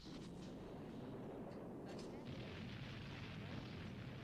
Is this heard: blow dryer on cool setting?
no